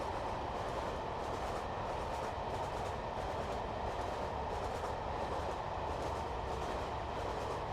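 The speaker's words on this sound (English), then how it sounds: "Proper jointed track, just like the real thing." Train wagons clatter steadily over jointed track in a train simulator game, a continuous rolling rumble with rhythmic clickety-clack beats at the rail joints, heard as if from the back of the train.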